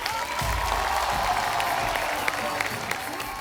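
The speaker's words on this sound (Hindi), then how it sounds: "जोरदार तालियां।" Applause and cheering from a live audience at a film event welcoming director Rakeysh Omprakash Mehra and Harshvardhan Kapoor, a dense sustained clapping crowd under an amplified announcer's voice.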